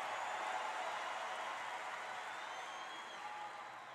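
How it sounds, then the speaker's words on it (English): Crowd at the 2016 US Open tennis stadium cheering and applauding to lift a player during a fourth-round match, a broad, distant roar of clapping that stays fairly even and moderate throughout. "And the crowd tries to rally Nadal's spirit"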